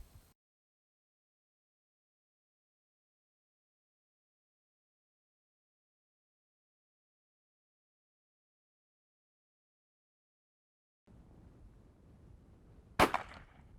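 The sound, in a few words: shotgun shot while dove hunting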